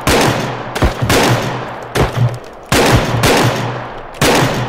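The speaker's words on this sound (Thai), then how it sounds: "มันยิงกันเหมือนจริงเลยของจริงเลย" Loud close gunfire from the realistic shooter video game Bodycam, with several heavy bursts of rapid automatic shots separated by brief gaps and echoing tails.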